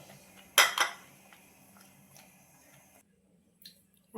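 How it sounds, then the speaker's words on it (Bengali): A cooking pot of half-cooked kacchi biryani is lifted off a stove with a loud metallic clatter early on, then fainter ticks and a light knock follow in a quiet kitchen. "এখন এটা আমি নামিয়ে নেব চুলা থেকে"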